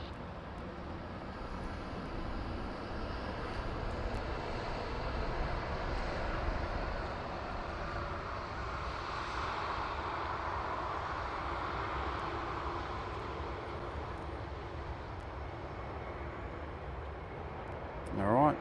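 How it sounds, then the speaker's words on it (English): Qantas flight 415 airliner taking off from Sydney Airport: a steady, broad jet roar holds at even loudness throughout, with a brief louder swell at the very end. "Takeoff, Qantas 415."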